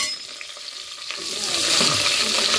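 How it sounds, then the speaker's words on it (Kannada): Bay leaf, cinnamon and mint fry in hot oil, giving a soft crackle that swells into a fuller, louder sizzle with faint stirring, and no talking. "ಇವಾಗ ನೋಡಿ ಅದು ಎಣ್ಣೆ ಒಳಗೆ ಅಷ್ಟೆಲ್ಲ ಫ್ರೈ ಆತ"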